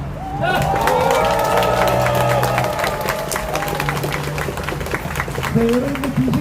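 A crowd at a Korean rally marking the end of the event for victims of the TMON/WeMakePrice (Timef) payment scandal, cheering and clapping loudly and steadily throughout, with voices and shouts mixed into the roar.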